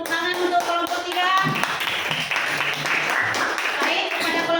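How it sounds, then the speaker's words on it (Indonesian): A classroom of students claps for a presenting group, a lively round of hand-clapping with rhythmic tapping and some voices mixed in throughout. "tepuk tangan untuk kelompok 3"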